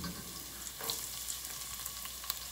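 Steady close sizzling of onions and tomatoes sautéing in a hot pan, continuous frying crackle with occasional brief clicks and no talk.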